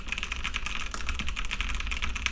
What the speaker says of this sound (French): Voilà ce que ça donne en termes de niveau de clavier.